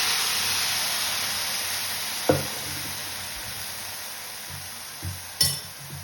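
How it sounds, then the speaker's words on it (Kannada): Boiled kabuli chickpeas dropped into a hot pan for a masala yam fry: steady oily sizzle and hiss throughout, with a few distinct clunks and clinks of the spoon against the pan, no talk. "ಈಗ ಬೇಯಿಸಿ ಇಟ್ಕೊಂಡಂಥ ಕಾಬೂಲ್ ಚೆನ್ನ ಹಾಕೊಳ್ತಿದ್ದೇನೆ."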